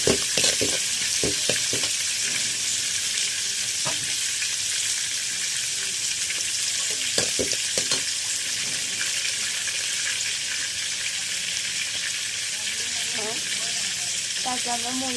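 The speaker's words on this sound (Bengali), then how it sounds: "প্রথমে একটা ডেকচির মধ্যে তেল গরম করে পেঁয়াজ, তেজপাতা আর কাঁচামরিচ দিয়ে দেবো। পেঁয়াজটাকে লাল ভাজি করে নেব" Onion, bay leaf and green chilli frying in hot oil in a cooking pot, a dense continuous sizzle throughout with occasional stirring knocks and scrapes, no voices.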